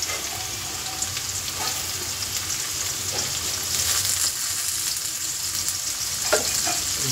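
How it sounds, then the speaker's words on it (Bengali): Ripe bitter gourd pieces fry in hot oil in a pan, a steady loud sizzle with scraping stirs throughout, no voices. "সবাই একসাথে খুব ভালো করে ভাজবো, লাল করে ভেজে নেবো এবার"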